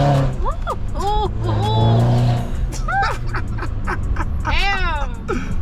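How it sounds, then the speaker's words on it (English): A car engine hums and revs up beneath excited voices and whooping, a steady low rumble rising in pitch inside the vehicle. "I like how the engine sounds."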